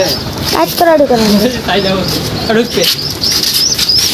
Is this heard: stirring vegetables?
no